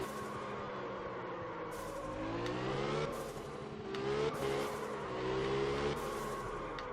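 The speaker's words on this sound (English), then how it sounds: "Yeah, see, that's not drifting. That's fucking skidding." Tyres skidding and a revving engine in the drift game Absolute Drift, rising and falling pitch sweeps with bursts of tyre noise across several seconds, loud and close.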